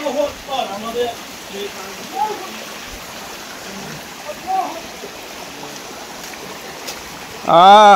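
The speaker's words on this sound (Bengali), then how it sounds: "এই হচ্ছে ঝিরি।" A forest stream on a hill trail runs with a continuous watery rush beneath several bursts of nearby talking, ending in a loud close voice.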